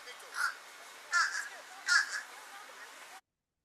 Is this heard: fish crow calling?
yes